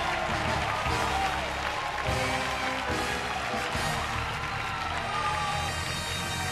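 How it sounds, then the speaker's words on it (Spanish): Strong, sustained ovation from a television studio audience, dense applause filling the whole stretch without a break, loud and close with no clear voice over it. "con esta fuerte ovación para José Manuel Lemoté"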